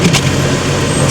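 Cadillac DeVille pulling away on its first drive, a loud close engine rumble with a steady low drone over a brief stretch.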